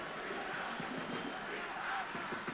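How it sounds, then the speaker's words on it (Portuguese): A football crowd at a Brazilian league match, Vitória against Barueri, chants a player's name in a rhythmic, surging roar that swells and dips, heard from a distance with no talk over it. "Olha a torcida gritando o nome do Bida."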